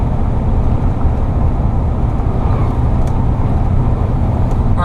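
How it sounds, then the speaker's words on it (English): Heavy trucks pass on a road, heard as a loud, constant low roar with no distinct individual passes and no talking. "My goodness, all these trucks."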